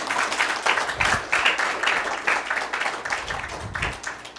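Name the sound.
temple audience applause for the speaker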